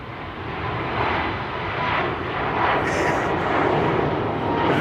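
A KLM Boeing 787-9 Dreamliner jet at Amsterdam Schiphol airport gives a steady, broad engine roar that swells slightly and holds loud for several seconds.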